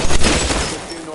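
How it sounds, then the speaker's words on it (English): Gunfire in the VR police game LA Noire VR, a loud close burst of several rapid shots over the first half second, then a fading ringing tail. "Shots fired"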